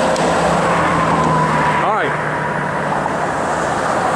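Steady road traffic hisses on open graded asphalt during a long-distance bicycle ride across Georgia, a continuous broadband roar with one vehicle passing close by midway. A voice speaks over it briefly.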